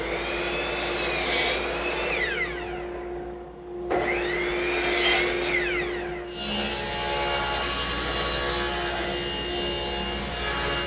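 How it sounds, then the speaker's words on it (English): A table saw and a compound miter saw cut wooden stock in a shop, with a loud whining motor that rises and falls as the blades bite through the wood and briefly spins down before starting up again. "So we'll go over to the table saw and the compound miter saw to get these cuts out of the way."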